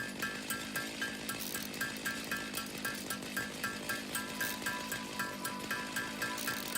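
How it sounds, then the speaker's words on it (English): Chainsaw from the factory-building video game Satisfactory, a steady buzzing drone with rapid rhythmic pulses repeating evenly throughout, moderately loud and continuous with no talk over it. "The sound of the chainsaw."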